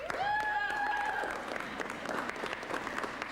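An audience at a 1993 high school student awards ceremony applauds steadily throughout, dense clapping at moderate loudness with a brief whistle near the start.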